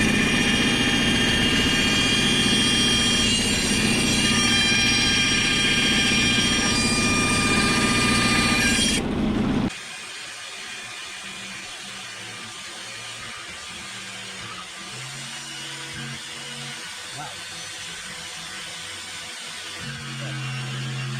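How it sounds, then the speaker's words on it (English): Bandsaw freehand cutting wooden planks for a wooden Tahiti gaff cutter: a loud, steady humming motor drone for about nine seconds, then an abrupt drop to quieter shop background with faint knocks. "So I'm going to try to do the rest of this, I guess, on the bandsaw."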